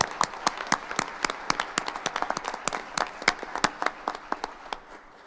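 Applause at a school board meeting, a thin scattering of individual claps from a small audience, distinct sharp hand claps in an uneven rhythm for about five seconds.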